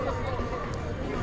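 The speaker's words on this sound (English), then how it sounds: "the crowds waiting for the foods over here" Steady crowd chatter on a busy Manhattan street in the holiday season, as people wait in line for food: an even babble of many voices close by, with no single word standing out.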